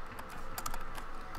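Soft keystrokes tapped on a computer keyboard, a quick uneven run of clicks close by and fairly quiet, with no voices.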